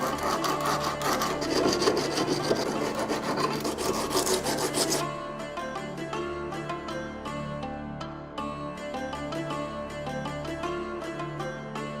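Hand sanding a Gjermundbu-type Viking helmet with sandpaper glued to a flat pad, a steady scratchy rasping that runs throughout, denser and rougher at first and then thinning to finer scraping strokes.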